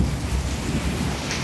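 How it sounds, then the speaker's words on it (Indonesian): Heavy rain pours outdoors in Hambalang, Bogor, West Java, a dense, continuous broadband hiss of downpour with low rumbling, loud and steady throughout with no voices. "di tengah guyuran hujan"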